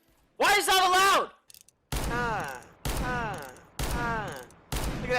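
Weapons fire in Counter-Strike: Global Offensive, several loud, separate bursts of rapid shots with short pauses between them, close and dominant.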